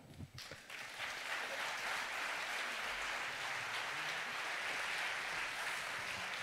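A conference audience at a network meeting applauds the speakers, a steady, fairly faint wash of clapping from a crowd that follows a few scattered first claps and keeps on evenly.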